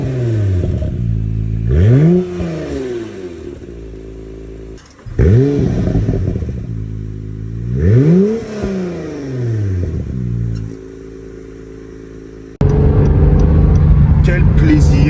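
A 2024 Honda NSX hybrid supercar's 3.5-litre engine revs repeatedly, rising and falling in pitch with loud, growling sweeps, then settles into a steady loud drone.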